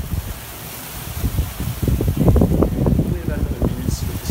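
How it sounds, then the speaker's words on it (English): Gusty wind rumbles and buffets the microphone outdoors beside a flooded boardwalk, building in low bursts and staying loud throughout. "The wind is coming from that direction and also that direction."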